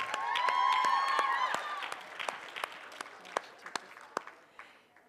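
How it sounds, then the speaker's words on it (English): Applause from an audience at an evening student event, with dense clapping and a few cheers at first, then thinning to scattered single claps as it dies away over about five seconds. "Let's give them another round of applause."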